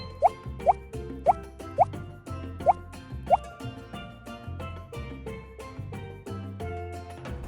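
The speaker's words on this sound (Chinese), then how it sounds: "刚才泡的姜椒水过滤后加进去，大概5大勺就行，然后开始搅拌" Filtered ginger and Sichuan pepper water is spooned into finely minced pork, giving six soft, distinct plops in an even rhythm with quiet music behind.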